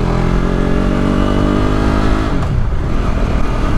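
A KTM RC 390 motorcycle engine on a morning ride drones loud and steady, holding a constant tone before briefly dropping in pitch, with no talking.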